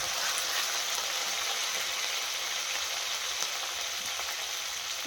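Curry leaves and green chillies fry in hot oil for jeera rice, making a constant close hissing sizzle with fine crackles and an even level throughout.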